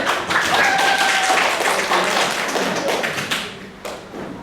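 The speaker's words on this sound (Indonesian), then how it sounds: "Oke, tepuk tangan semuanya." A class group claps together after presentations in a teacher training session, a brisk, loud patter of many hands that gradually thins out, with a brief whistle-like tone early on.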